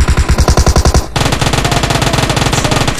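Submachine gun fire in PUBG Mobile zombie mode, loud rapid automatic bursts: a fast heavy string of shots, a brief break, then another quicker volley of crisp rounds, with no talk.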